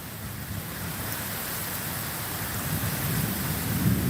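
Heavy rain pours steadily during a thunderstorm cell, with a broad continuous wash of noise and a low rumbling undertone that swells slightly toward the end; no voices.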